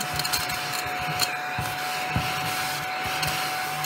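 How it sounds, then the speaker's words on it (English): A small handheld vacuum runs steadily up close, sucking up scattered paper die-cut squares on a crafting table, with a faint steady whine and occasional light clicks and taps as pieces are pulled in. "I'm going to take my little vacuum and just clean them all up"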